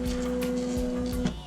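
A Smith Corona electronic typewriter running, giving a steady mechanical whir with a constant hum and soft rhythmic ticks, close and moderately loud.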